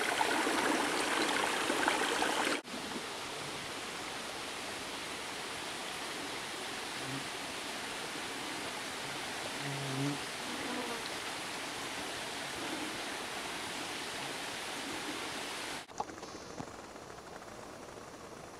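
A mountain stream flowing beside a climbing forest trail on the Cooley Glen loop, a steady broadband rush of water that runs without break, with faint intermittent sounds underneath.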